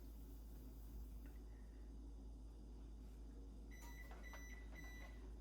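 A home oven beeps several times in short, faint, evenly spaced tones as it comes up to its 350-degree baking temperature, over a steady low kitchen hum.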